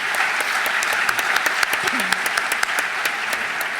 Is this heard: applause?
yes